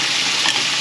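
Galunggong (round scad) fish frying in hot oil gives a steady, dense, loud sizzle that crackles continuously without pause or talk.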